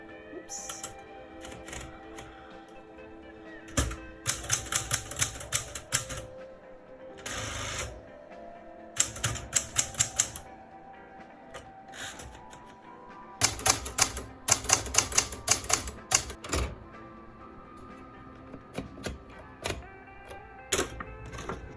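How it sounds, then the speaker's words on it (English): A manual typewriter clacks in quick bursts of keystrokes separated by short pauses, with occasional carriage and bell sounds, close and alone. "I'm gonna get to typing."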